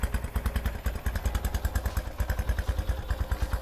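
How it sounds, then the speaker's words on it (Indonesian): A Honda GL100 motorcycle engine runs just after an electric start, thumping in a steady, fast, even rhythm close by. No voices. "langsung kita coba nyalakan untuk mesinnya. Starter juga langsung nyala."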